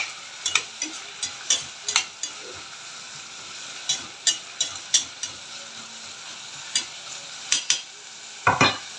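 Food is sautéed in a pan with a steady close sizzle, punctuated by repeated sharp clicks and scrapes of a utensil stirring against the metal; no one speaks.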